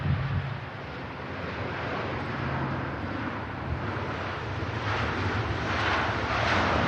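Qatar Airways Airbus A350 jet landing at Manchester Airport, a steady broadband engine roar that builds slightly toward the end, mixed with wind buffeting on the microphone and no talk.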